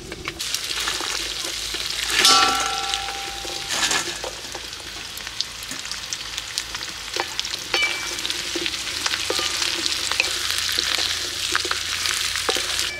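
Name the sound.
fried chicken stirred into frying green chillies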